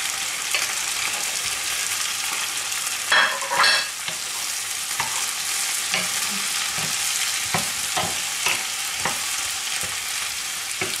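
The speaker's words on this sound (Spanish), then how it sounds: "ya que tenemos la cebolla pochadita, añadimos la salchicha" Sausages sizzle in a pan with softened onion, a steady frying hiss broken by repeated stirring scrapes and spatula knocks at close range.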